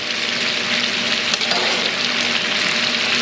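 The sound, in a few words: pasta sizzling as it is added to a skillet with guanciale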